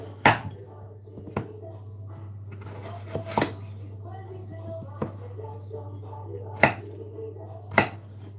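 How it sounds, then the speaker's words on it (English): A knife cuts potatoes into cubes in a home kitchen, giving several sharp, irregularly spaced chops against the board over a steady low hum. "I'm just cutting up my potato into cubes."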